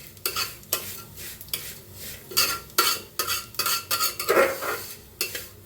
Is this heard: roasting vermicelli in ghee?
yes